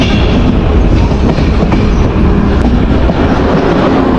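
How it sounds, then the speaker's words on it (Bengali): The Drutojan Express night train running from Dhaka toward Panchagarh near the Jamuna bridge, heard from inside as a loud continuous rumble and rattling wheel roar that stays steady, then cuts off abruptly at the end. "আমাদের ট্রেনটি এরই মধ্যে যমুনা সেতুর কাছাকাছি চলে আসছে"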